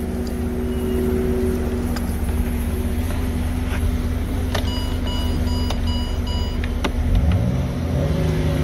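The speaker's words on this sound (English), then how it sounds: "The battery's disconnected and the motor's still running." A Toyota Camry engine with a blown head gasket, a history of overheating and a faulty ignition switch idles with its battery disconnected: a steady, close mechanical hum with occasional light ticks and clicks.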